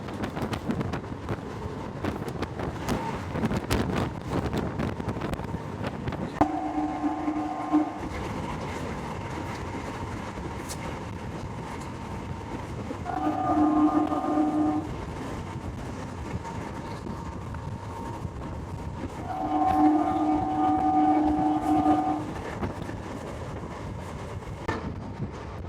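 A passenger train runs on the Salem–Thanjavur line with a steady rolling rumble and clatter heard from on board, wind noise over the microphone, and a two-tone horn sounding three times with no talking.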